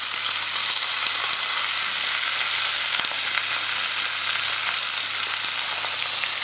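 Lamb shoulder sears in a hot pan with a steady, close sizzle and crackle that runs unbroken throughout, with scattered small pops and no talking.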